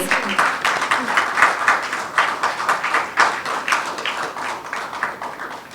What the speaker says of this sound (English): Yes, applause with passion.